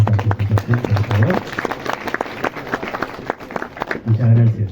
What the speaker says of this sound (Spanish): Vamos a darle un aplauso a Justin por su participación, por favor.